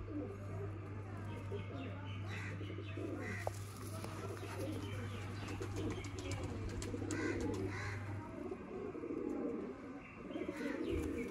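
Pigeons packed inside a box coo and rustle softly throughout, with faint chirps and shuffling. A low steady hum runs under them for the first eight seconds, and voices can be heard in the background.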